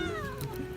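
A kitten gives one short, sliding meow, close and clear over a noisy, rumbling background.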